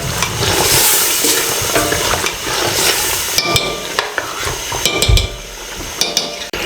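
Beef korma frying in a pot, a loud steady sizzle with scraping and stirring, and several sharp clinks of a spoon against the pot near the end.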